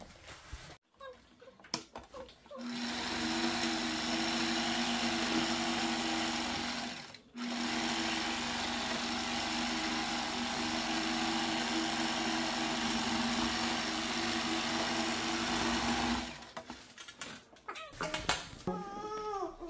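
Sewing machine running steadily for about fourteen seconds as it stitches darts on a mermaid dress, stopping briefly once before resuming, with quieter handling noises at the start and end.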